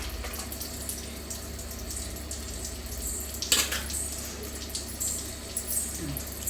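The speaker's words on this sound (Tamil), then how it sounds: "இப்போ நல்லா கொதிச்சிருச்சுப்பா." Water boiling in a pot for rava kichadi with tomato and coriander, a steady soft bubbling and hiss with faint clinks, close and continuous throughout.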